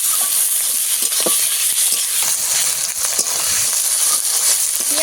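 Onions and tomatoes frying in a pan for a Bengali fish curry, a loud continuous hiss and sizzle with scattered crackles and occasional stirring scrapes, close up and without talk.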